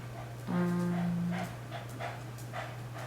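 A dog gives a drawn-out high whimper, then soft panting-like breaths, close and fairly quiet over a steady low hum, with no talking.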